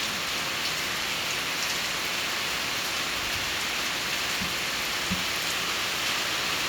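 Heavy rain pours down in Laos, a dense steady hiss of drops hammering surfaces that holds constant throughout, with a few louder individual splats.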